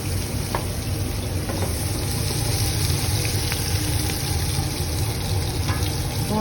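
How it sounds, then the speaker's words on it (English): Onion and garlic hit hot oil and fry with a steady, close sizzle and hiss, a watery crackle running evenly under a low hum, with a few faint clicks and no talking. "The oil's hot. Onion, garlic."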